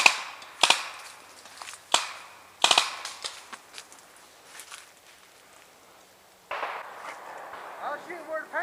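Paintball markers fire outdoors during a paintball game: a few sharp pops, some doubled, spaced across the first seconds, then fainter rustling and movement, with people talking.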